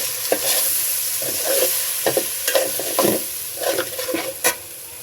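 Shrimp sizzle in a frying pan as a paste of ginger, garlic, turmeric and chili powder is poured in. Crisp frying hiss runs under repeated scraping stirs and clinks, close and moderately loud.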